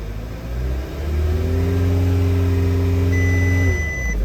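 A 2013 VW Tiguan engine with low oil pressure being revved, rising from idle to a steady elevated drone and easing back near the end, with a faint electronic beep tone in the middle.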